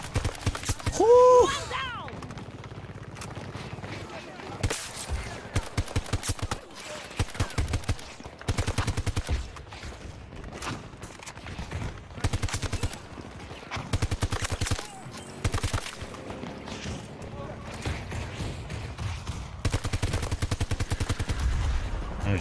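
A weapon in Battlefield 2042 fires in rapid repeated bursts across the whole stretch, loud sharp shots with brief pauses between volleys, a player talking now and then.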